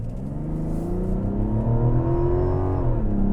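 A 2024 Mazda CX-90 Turbo S Premium Plus accelerates hard from inside the cabin, its engine note a loud, steady drone rising smoothly in pitch before easing off near the end.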